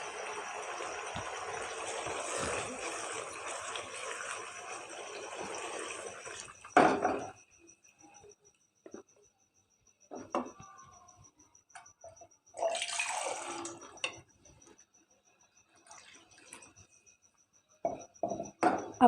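Water is poured into a pan of frying chana daal, a hissing, splashing rush for several seconds, followed by quieter scattered sizzles and small clinks from the pan.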